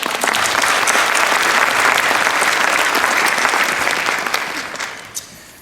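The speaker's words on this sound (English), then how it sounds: "Let's give them a round of applause." An audience gives a round of applause at a Chinese American community celebration, a dense, steady clapping that fills the room before tapering off toward the end.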